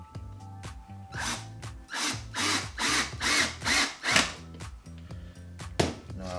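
A power drill whirs in about half a dozen short rising bursts with brief pauses, driving into slots for screws while building a DIY overhead camera rig; close and loud, no talk.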